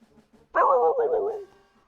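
An enemy knight in Final Fantasy II gives a single short barking cry, one clear voiced yelp just under a second long, with faint quieter sounds before and after.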